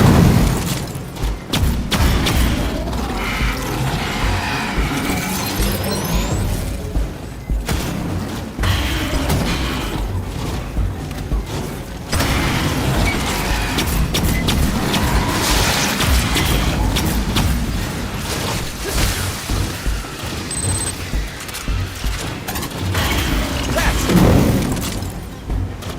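Grenade blasts and heavy thuds in the video game Aliens: Fireteam Elite, several booming impacts mixed with gunfire and combat clatter, loud and close throughout the chaotic firefight.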